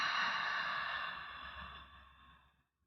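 During high-intensity yoga breathing, a single open-mouthed breath is pushed out hard. It is near and fairly soft, holds steady, then tapers away over a couple of seconds into quiet, with no voice alongside.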